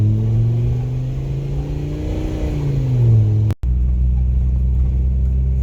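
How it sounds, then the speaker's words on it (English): Steady engine drone of a car on the road with a rising rev as it merges onto a freeway, a loud continuous rumble broken by one very brief dropout near the end. "All right, getting back on the freeway."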